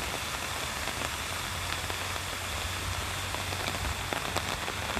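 Steady rain pattering on surfaces in Showa Kinen Park among cherry trees, a dense even hiss with scattered drops, continuous and fairly close with no voices.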